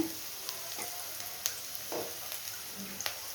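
Onion fries gently in oil for a fish curry, a soft, continuous sizzle with a few faint stirring taps, close but quiet, with no talk.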